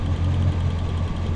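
Car engine idling with its idle speed raised by a vacuum leak on bank 1, a steady low droning hum with even pulsing, close and continuous throughout.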